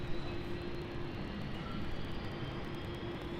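A Jetstar Airbus A320-200 taking off at Brisbane Airport, a steady broad jet engine roar with a low rumble and a faint whine, constant and at a moderate distance throughout.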